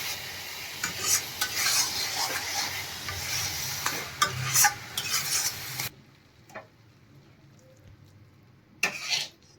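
Carrot halwa with dry fruits is stirred in a pan, with scraping strokes and clinks over a soft sizzle that then cuts to near quiet, broken by a few isolated knocks and one last burst of scraping.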